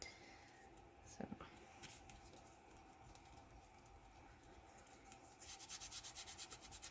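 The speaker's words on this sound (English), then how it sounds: "And just rubbing it in there really gets the color in there." Colour is rubbed into a painted background in soft, continuous scrubbing strokes, faint and close, turning brisker and more rhythmic near the end.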